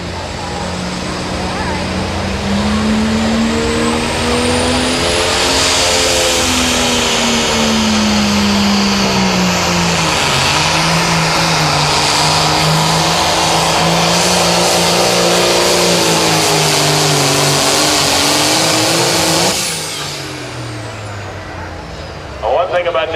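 A John Deere 7830 limited pro stock tractor roars loudly through a pull at a Mound City, Missouri night event, its engine pitch rising and sagging under load for about twenty seconds before cutting back, with an announcer talking over it.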